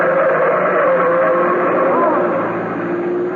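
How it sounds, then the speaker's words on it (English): Car engine roaring loud and close as it speeds through a red light at an intersection, a sustained revving sweep in an old radio drama sound effect. "There's a car coming right through that red light."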